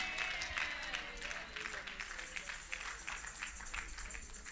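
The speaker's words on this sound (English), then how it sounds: "Oh, give the Lord a clap offering." Church congregation at a Sunday service gives a clap offering, a moderate spread of hand claps from a crowd, fairly quiet and scattered, with some faint murmuring mixed in.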